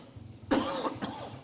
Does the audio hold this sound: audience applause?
no